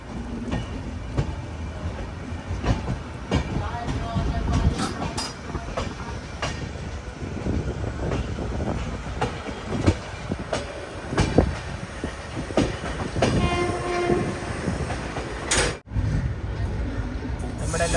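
An Intercity Express train runs between Ahmedabad and Jamnagar with a continuous rumble and rhythmic wheel clatter heard from on board, joined by occasional squeals and a sustained horn-like tone later on.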